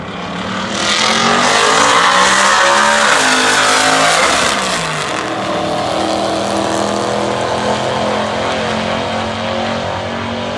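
An LS-swapped Cadillac Escalade converted to front-wheel drive roars at a Street Car Takeover event in Indianapolis, its engine revving hard and climbing in pitch. The loud, continuous blare then holds steady with crowd-level background noise and no talk.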